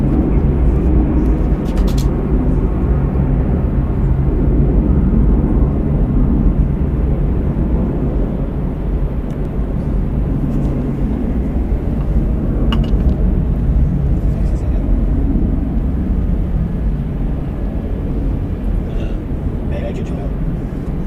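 A jet airliner takes off from runway 6 left at Atlanta Hartsfield-Jackson International Airport, a loud, broad, continuous engine roar that holds steady throughout, with occasional faint radio chatter underneath.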